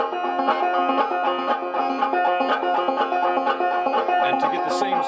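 A banjo played overhand with a repetitive drop-thumb roll, steady bright plucked notes cycling in an even driving pattern, close and alone.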